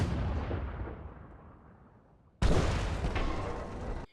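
A cannon on top of a bunker fires in the folk horror game Mundaun: one heavy boom decays slowly over a couple of seconds, then a second loud blast hits and rumbles before cutting off abruptly.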